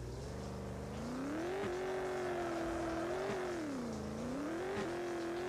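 Volkswagen Saveiro G1 engine revs steadily and loudly throughout, its pitch rising and dipping in a few slow swells as the driver attempts a handbrake spin; no voices are present.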